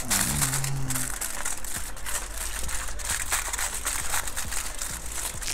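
Aluminium foil crinkles and crackles as it is lifted off a pineapple shisha head, a steady close, dense rustling that runs throughout with no pauses.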